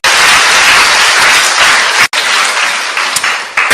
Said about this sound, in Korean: 박수로 하나님께 영광입니다